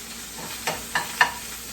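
Ginger frying in a pan for stewed beef and onions, a soft continuous sizzle broken by three quick scraping stirs of a utensil, close and fairly quiet, with no talking.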